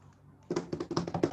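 Rapid tapping of hands on a desk mimics a drum roll at an online club awards meeting, a brief run of close, even taps starting after a short quiet.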